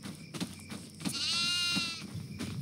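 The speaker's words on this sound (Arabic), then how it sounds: "في معزة في الشواية هاي" A goat bleats once in a long, wavering cry at close range, with short knocks and scuffs around it and no talk.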